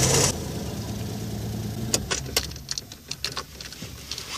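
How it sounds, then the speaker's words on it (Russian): A Daewoo Matiz 0.8–1.0 litre car engine starts with a short cranking burst, then settles into a quiet steady idle, with scattered light clicks and knocks nearby. "Теперь необходимо запустить двигатель."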